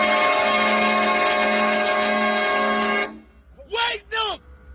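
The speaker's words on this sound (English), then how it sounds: "I added the ability to honk the horn in normal cars" A long, loud car horn blares for about three seconds in an indie video game, then two shorter honks follow in quick succession.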